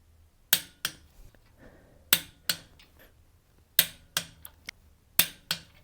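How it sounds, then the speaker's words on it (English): A torque wrench clicks sharply while differential cover bolts are tightened to 80 foot-pounds. Crisp, close clicks arrive in pairs and triplets with short quiet gaps between them. "I'm gonna go ahead and torque these bolts"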